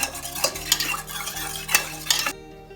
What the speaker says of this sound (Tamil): பருப்பு நல்லா வெந்திருக்கிறனாலங்க லேசாக கரண்டியில் மறைச்சி விட்டுக்கிட்டாலே போதும்